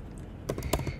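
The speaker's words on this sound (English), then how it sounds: "Now we'll type" Quick typing on a computer keyboard: a short run of close, crisp key clicks starting partway through, after a faint quiet lead-in.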